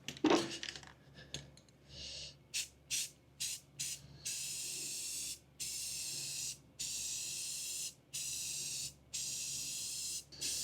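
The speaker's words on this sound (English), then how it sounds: "I'm going to use some Rust-Oleum primer" Rust-Oleum primer hisses from an aerosol can onto the back of an RV bench seat in a series of close spray bursts. A few short puffs come first, then longer steady sprays separated by brief pauses.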